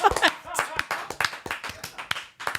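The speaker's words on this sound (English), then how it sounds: "Give him a round of applause." A small podcast group claps, several loose uneven hand claps in a quick irregular series, close and dry, with voices mixed in.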